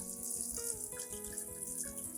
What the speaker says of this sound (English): gently rinse the plant under clean running water as shown in the video